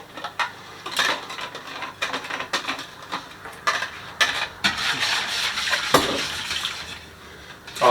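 Gelatin mix added to a white wine cheesecake mixture and stirred in a bowl, with repeated close clinks, scrapes and knocks of a utensil against the bowl in an uneven rhythm.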